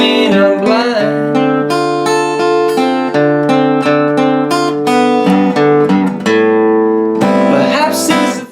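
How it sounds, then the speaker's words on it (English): Slow fingerpicked acoustic guitar playing the verse pattern of a song, steady ringing arpeggiated notes over sustained low strings, close and clear with no voice. "Here's that verse picking sequence played slowly."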